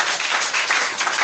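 A church congregation claps in a brief, dense burst of steady applause that fills the space and runs unbroken to the end.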